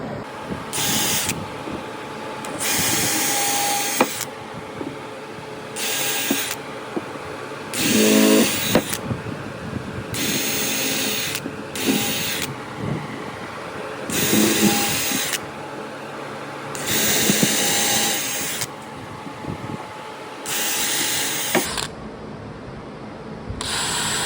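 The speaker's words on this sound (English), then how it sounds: "So now I'll pre-drill each of my marks." Bursts of a power drill whirring in short repeated runs, pre-drilling holes in wood, separated by quieter pauses, close by, with occasional clicks and clunks between.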